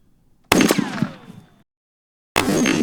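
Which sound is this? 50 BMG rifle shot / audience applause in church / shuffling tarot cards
50 BMG rifle shot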